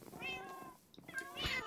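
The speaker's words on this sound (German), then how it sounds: "Geht's weg, Katzen!" Two cats meow in the Minecraft video game, a rising drawn-out mew followed by a second, brighter one, both close and clear with no talk over them.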